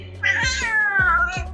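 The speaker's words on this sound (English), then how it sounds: "This cat." A pet cat gives a drawn-out, wavering meow close by, with light knocks and a rustle beneath it and no speech.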